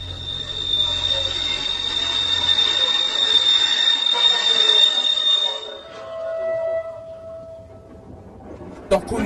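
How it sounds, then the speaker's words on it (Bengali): A train pulls into a station late at night, its wheels letting out a loud, sustained high-pitched squeal over a low rumble that fades after several seconds, followed by a quieter tone and a brief sharp knock near the end. "ট্রেন এসে পৌঁছালো স্টেশনে।"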